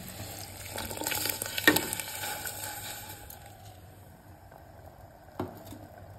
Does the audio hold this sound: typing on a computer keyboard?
no